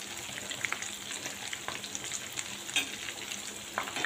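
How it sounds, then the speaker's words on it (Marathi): Green chilies fry in hot oil over a medium gas flame with a quiet, steady sizzle. Soft pops and crackles break through it now and then. No one speaks. "मिरची चांगली फ्राय होऊ द्या मीडियम गॅसवर."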